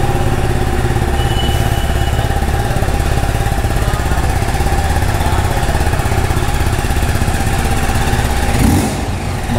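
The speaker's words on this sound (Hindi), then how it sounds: "और चलो एक बार बाइक को स्टार्ट करके एग्जॉस्ट नोट सुनते हैं।" A stock-exhaust TVS Apache RTR 310 motorcycle engine runs loud and close, a steady, throbbing idle with a deep rhythmic pulse throughout and a brief dip near the end.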